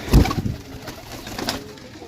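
A pigeon for sale in Pakistan, a Sialkoti cross, gives a low throaty coo up close, a short burst followed by fainter soft cooing amid light background noise.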